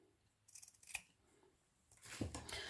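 Scissors snipping through material during craft work making clusters, a few quiet crisp cuts close by, the last one longer and louder, with no talking.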